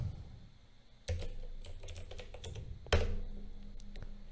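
A domain name being typed into a web browser on a computer keyboard, two short bursts of quick close key clicks separated by quiet pauses.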